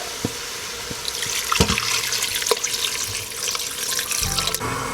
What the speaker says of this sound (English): And add some water.